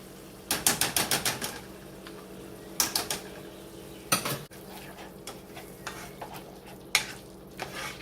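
Sloppy joe mixture with mustard stirred in a pot, a spoon scraping and clinking in quick bursts of rhythmic strokes, with short pauses between rounds of mixing; no talking.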